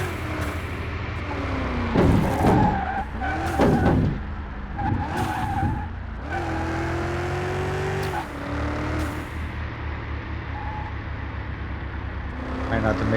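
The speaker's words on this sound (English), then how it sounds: "Try not to make those wheels squeal" Car tires squealing through corners in the video game Car Mechanic Simulator 2021, several sharp screeching bursts and sustained tonal squeals over a steady engine hum, with someone talking briefly.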